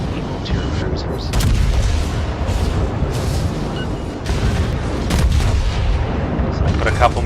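Naval guns boom in World of Warships aboard the battleship Mikasa, main battery volleys and secondary guns firing in heavy, rumbling blasts under steady talk.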